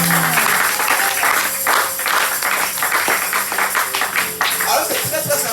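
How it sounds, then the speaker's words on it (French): A church congregation claps and cheers during a sermon, with dense, ragged applause from a crowd while a voice keeps talking over it. "Acclamons pour la fidélité de Dieu"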